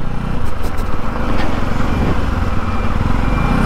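A motorcycle engine runs steadily and loudly while riding over a rough, bumpy road under construction in Reasi, Jammu and Kashmir, with the dense rumble continuing without a break.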